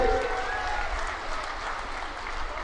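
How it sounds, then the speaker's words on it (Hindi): A large outdoor crowd at an Amit Shah election rally in Jhajjar, India, claps steadily in sustained, moderately loud applause, with a voice over a loudspeaker faintly mixed in. "सब ताली बजाओ बाबा के लिए।"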